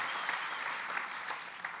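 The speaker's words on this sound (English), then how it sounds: "please, a round of applause" Applause from a summit plenary audience, a continuous wash of many people clapping, heard from some distance and fairly soft, holding steady for the whole moment.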